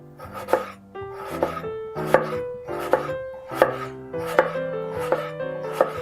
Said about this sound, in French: Et là, vous allez faire des tranches d'à peu près 2 mm.